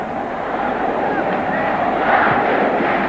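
A football stadium crowd roars steadily at a 1998 friendly between Yugoslavia and Brazil after Brazil's equaliser, a dense sustained cheer that swells slightly toward the end, heard from a distance as a broad wash.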